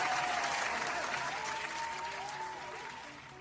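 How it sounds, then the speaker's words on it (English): A round of applause plays steadily, fairly faint and uniform, gradually fading toward the end with no talk over it. "Round of applause."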